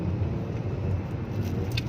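Road traffic in Baliwag near SM, a steady low rumble of car engines idling and rolling nearby, constant and even with a faint high clink near the end.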